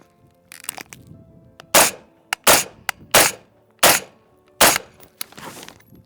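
Carbine rifle firing five sharp rounds in a quick, slightly uneven string, each shot loud and close with a crisp crack, quieter rattles and clicks between them, no talk.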